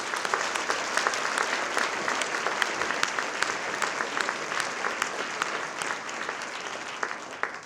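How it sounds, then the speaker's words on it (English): An audience applauds at a charity luncheon, a steady, dense round of clapping from many hands that holds at an even level throughout, with no voices over it. "Let's give them all a round of applause."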